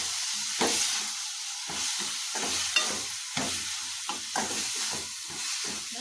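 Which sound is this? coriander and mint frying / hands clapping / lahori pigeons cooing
coriander and mint frying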